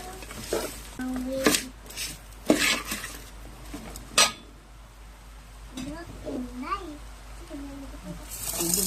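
Salted mango pieces tip from a container into a vessel with rattling clatters, then a spoon scrapes and knocks as they are stirred, with a person talking in between.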